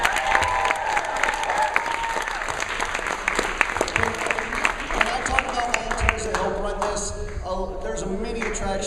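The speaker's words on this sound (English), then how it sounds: "Everybody give them a round of applause." An audience at a convention closing ceremony claps for the combat group organizers, a lively burst of applause with sharp individual claps and some cheering, while voices talk over the clapping near the end.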